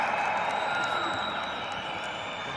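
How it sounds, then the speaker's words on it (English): A home crowd at a karate kumite bout in Cairo keeps up a steady, distant roar of cheering and noise, a continuous wash of sound with no distinct individual voices. "We hear the support from the home crowd."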